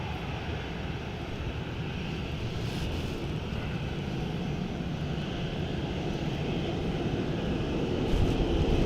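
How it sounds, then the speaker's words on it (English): Airliner engines roar at Dublin Airport during reverse thrust on landing: a loud, steady, broadband jet rumble with a slight swell near the end and no talking. "You see that reverse thrusters just closing up there now."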